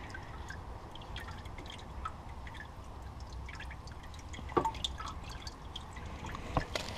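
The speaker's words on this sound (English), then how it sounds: "After more oil drains out, of course." Oil drips from the transmission drain of a Nissan GT-R, a steady close patter of drops and trickles with a few sharper splashes, no voices.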